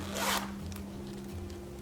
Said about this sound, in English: it just has a zip here